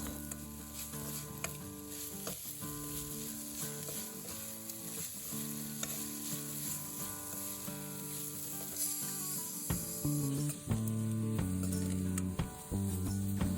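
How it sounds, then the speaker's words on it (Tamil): Spinach sizzling and frying in a pan for keerai kootu, a steady close crackle with occasional stirring clatter, no voices present. "கீரை நல்லா சுருங்கி வேகிற வரைக்கும் நல்லா ஃப்ரை பண்ணி விடணும்"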